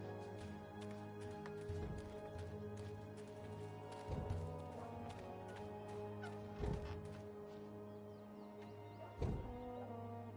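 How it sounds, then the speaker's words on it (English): A chattering fowl in the video game Dreamfall Chapters gives faint, recurring gobbling clucks roughly every two seconds over a steady low droning game ambience. "That filthy, chattering fowl must be over there somewhere."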